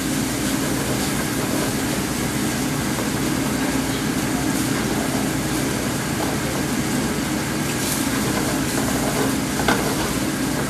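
Rice and chicken stir-frying in a pan during a live chicken fried rice demonstration, a steady loud sizzle with continuous stirring and scraping throughout.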